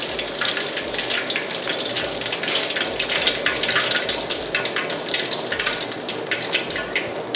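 Whole fish for Thai sweet and sour fried fish crackles and sizzles steadily in hot oil, a dense continuous close-up frying hiss with no talking.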